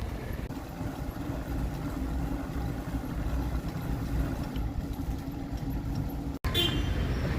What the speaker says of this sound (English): Stuck in traffic. Who'd have thought it?